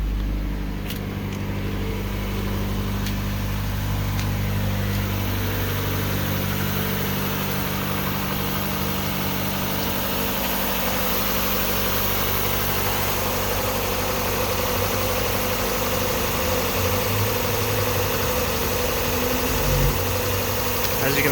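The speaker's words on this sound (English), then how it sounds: "it's idling high, given it's a cold start, but it's idling very stable," A 1996 Mazda Miata engine idling high and steady after a cold start, a smooth continuous hum close by that holds for about twenty seconds without stumbling.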